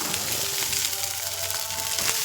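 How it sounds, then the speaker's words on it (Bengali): Leftover rice with a little salt frying in a pan, a dense, even hiss of sizzling oil that stays steady and fairly close throughout, with no speech. "সেই লেভেলের ভাত ভাজা যাচ্ছে একদম"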